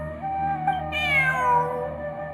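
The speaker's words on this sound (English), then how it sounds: "Look, a cat." A cat meows in the video game Genshin Impact, a single drawn-out, falling meow that carries over a steady low musical background hum.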